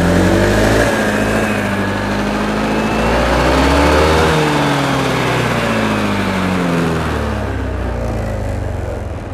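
A Honda PCX 160 scooter engine runs close by, its buzzing drone rising and falling as the revs climb and settle over several seconds.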